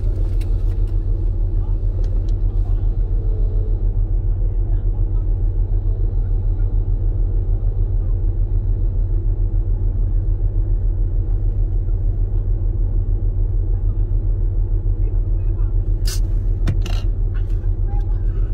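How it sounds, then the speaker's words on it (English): A car rumbles close by on a city street in Enugu, a loud, steady low engine drone lasting the whole stretch, with faint voices and scraping noises near the end. "This car will hit you."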